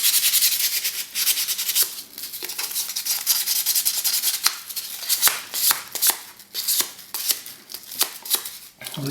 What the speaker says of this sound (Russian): шлифуем в труднодоступное место